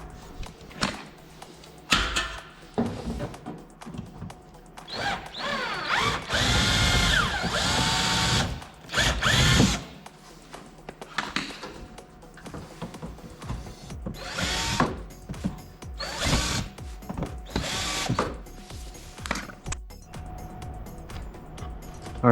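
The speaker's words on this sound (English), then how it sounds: "what I'm going to do is just simply drill out this hole" A power drill bores out a screw hole in a rear diffuser for a Dodge Challenger ZL1, whining in several separate bursts of varying length with quiet handling noises between them.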